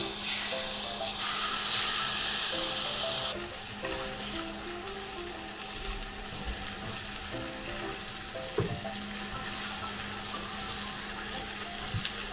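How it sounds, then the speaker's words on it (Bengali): Fish marinated with turmeric, chili powder and salt frying in oil, a close, continuous sizzle with a brief louder burst early on, faint clinks and a soft tonal hum, no talk. "তেল দিয়ে নিচ্ছি মাছটা ভাজার জন্য"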